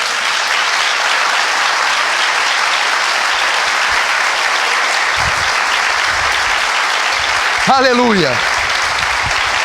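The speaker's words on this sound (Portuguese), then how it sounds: "Você pode dar um grande aplauso por isso?" Church congregation applauding during an evangelistic service, a dense, steady wash of clapping throughout, with a voice calling out near the end.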